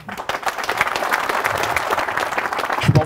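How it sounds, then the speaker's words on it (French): An audience at a presentation on responsible farming applauds, many hands clapping in a full, steady burst for about three seconds before it thins at the end. "ça mérite quand même des applaudissements."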